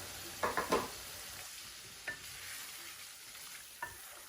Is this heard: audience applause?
no